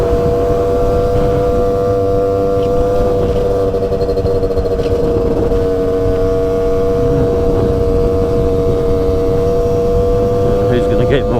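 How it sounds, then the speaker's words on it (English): A loud, steady engine drone from a CASA SST 265 runs throughout, a rough, noisy exhaust note holding a constant pitch with no breaks. "Damn noisy exhaust and all that."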